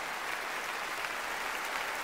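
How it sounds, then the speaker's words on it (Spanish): Steady, dense applause from a ballet gala audience, continuous and even throughout with no voices standing out. "Reciban fuerte y cariñoso el aplauso."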